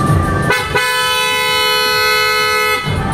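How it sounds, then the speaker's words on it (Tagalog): A PIAA car horn sounds in one loud, steady blast lasting just over two seconds, with a short chirp just before it, tested on a car fitted with a new head unit and projector headlights. "I-test natin na una yung horn mga kaibigan."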